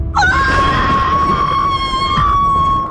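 A woman lets out a long, loud, sustained scream in a Korean drama, piercing and steady for nearly three seconds before it breaks off.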